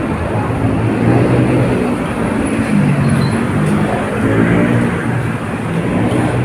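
Steady, loud road traffic noise from cars and buses on a congested street, heard while walking home from work; a continuous broadband rumble with no clear talk.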